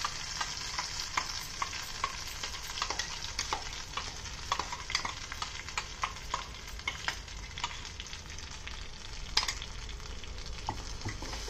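Tomato chutney stirred into a hot oil tempering in a pan, a constant crackling sizzle broken by frequent sharp scraping clicks of a spoon against the pan, close and without talk.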